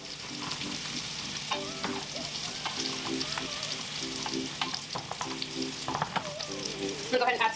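Brussels sprouts with shallots and garlic fry in a pan with a steady moderate sizzle, broken by repeated stirring and tossing scrapes throughout.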